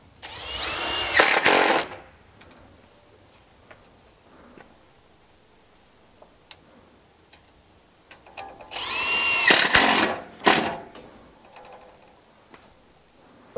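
A power drill drives self-tapping screws into an aluminium starter strip while cedral click siding is being fitted, with two loud whirring bursts near the start and again around the middle, separated by quiet moments with faint clicks.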